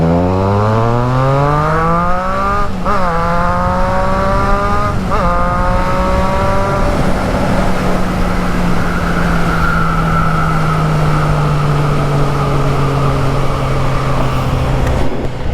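A Triumph Trident 660 motorcycle accelerates hard through the gears, its engine note rising in several steep sweeps with brief dips at each shift, then settling into a sustained high drone, loud and close with no talking.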